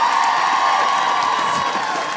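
Audience at a live show cheering and applauding, a dense sustained roar of crowd noise with whoops that holds steady and loud throughout.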